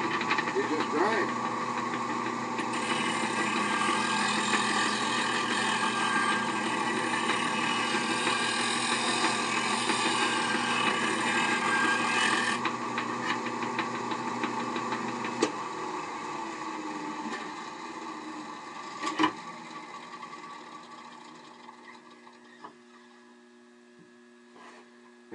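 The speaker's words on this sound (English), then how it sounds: "we just grind." A knife sharpening grinder runs with a steady humming whine for most of the stretch, then winds down and fades, with a few small knocks and clicks near the end.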